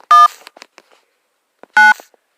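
Two loud bursts of telephone keypad dialing tones, separated by a gap with faint clicks and handling noise, as a phone number for a Santa line is dialed.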